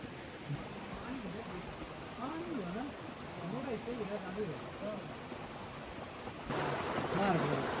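A stream in a wildlife sanctuary flows with a steady broadband rush that grows a little louder near the end, while a voice talks over the water.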